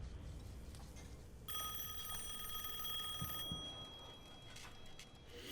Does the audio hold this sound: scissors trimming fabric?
no